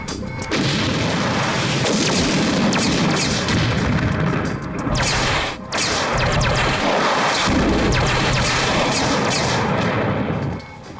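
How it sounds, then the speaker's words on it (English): A spaceship fires countermeasures in a science fiction TV series, producing a dense, loud roar of booming blasts and crackling explosions that is sustained, with two short dips in level. "Armed, firing countermeasures."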